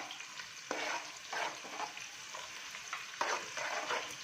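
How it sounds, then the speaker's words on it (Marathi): Onions for a chicken gravy sauté in a pan, a moderate sizzle broken by bursts of spatula scraping and stirring strokes at irregular intervals. "कांदा व्यवस्थित परतून घ्यायचा आहे"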